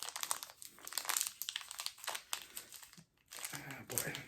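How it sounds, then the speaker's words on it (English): Anchorman trading card pack wrapper being worked open by hand, giving repeated close, loud crinkling and crumpling bursts with a brief pause near the end, while a person talks intermittently. "this is Anchorman trading cards, which I thought would be fun to open up on the channel."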